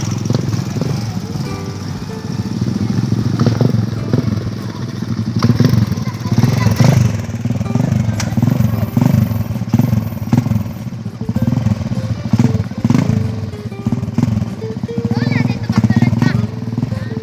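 A motorcycle engine hums and putters close by through the whole stretch, rising and falling slightly with the ride, while people talk over it intermittently.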